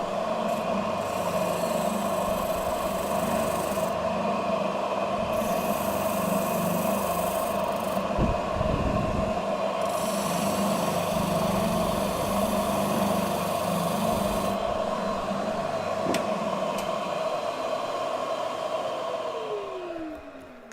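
A Jet spindle sander runs in a workshop demo with a steady motor drone and hum, working sounds swelling and easing in stretches before it winds down near the end, with no talk.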